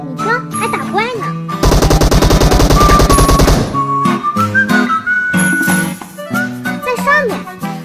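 Video game gunfire while fighting monsters: a loud, rapid automatic burst of about two seconds in the middle, framed by whistling, chiming game effects and music-like tones before and after.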